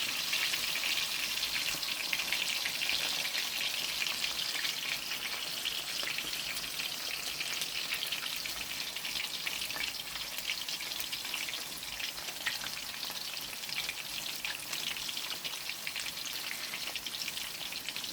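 A salmon fillet fries in a pan with a steady, dense sizzle and crackle that holds evenly throughout, close and moderately loud, with no voices over it.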